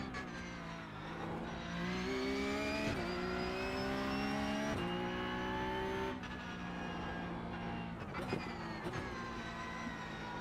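A V12 race car engine in the iRacing video game screams at high revs, climbing through gears with brief dips at each shift, sustained and smooth with no voices.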